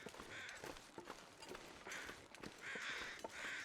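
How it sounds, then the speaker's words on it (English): Crows cawing in a survival video game, several harsh caws in bursts at moderate distance, repeating irregularly over a quiet background. "Got crows."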